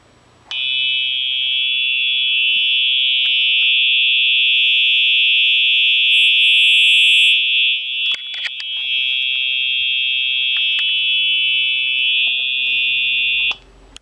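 Simplex True Alert 4906-9127 fire alarm horn driven by a function generator, a loud continuous piercing electronic tone held steadily for about thirteen seconds with a brief wavering near the end.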